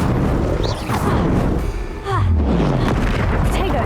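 In the video game Hogwarts Legacy, the Incendio fire spell goes off as a booming burst near the middle, amid other crackling combat effects and raised voices.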